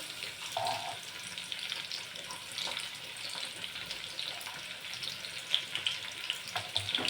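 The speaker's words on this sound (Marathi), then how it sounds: "आपण हा लसूण जो आहे तो या तेलामध्ये टाकून घेऊ" Finely chopped garlic fries in hot oil with a steady, fairly quiet sizzling hiss throughout, a few small crackles and pops near the end, and no voices.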